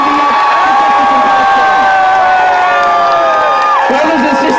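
Thousands of protesters at a pro-Palestine march over alleged BBC bias roar and cheer in one loud, sustained swell of crowd voices and whoops that carries all the way through.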